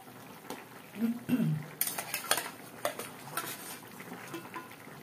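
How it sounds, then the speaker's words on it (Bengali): Small charapona fish slide into boiling curry gravy seasoned with panch phoron, with metal utensil clinks, clatter and brief splashy sizzling from the pot, close and moderately loud, no voices. "ঝোলটা ফুটে গেছে, এবার আমি মাছগুলোকে এর মধ্যে দিয়ে দেব।"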